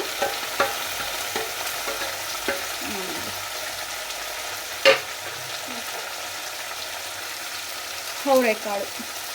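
Potatoes, carrots, beans and tomatoes go into a pan together with onion, giving a steady, even sizzle with soft stirring scrapes and a few louder knocks.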